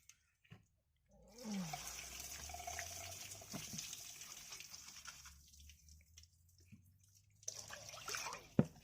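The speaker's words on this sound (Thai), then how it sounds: "ตอนนี้เอาข้าวมาล้างนะครับ" Rice soaked for an hour being washed in water, soft sloshing and swirling with trickles and drips, close and fairly faint.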